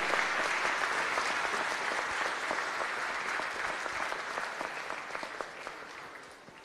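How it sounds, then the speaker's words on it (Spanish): A congregation at a Spanish-language Catholic Mass in St Mary's church claps together in a steady, dense wash of applause that fades slightly toward the end, with no voices over it. "Fuerte aplauso para el permanecer y perseverar"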